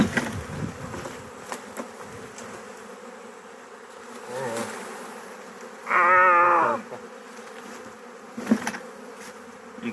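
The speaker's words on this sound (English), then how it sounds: "There's so many bees. There's a lot of bees." A mega-swarm of honey bees hums as a continuous droning buzz, with one louder individual bee whining close by for a couple of seconds and occasional knocks in the background.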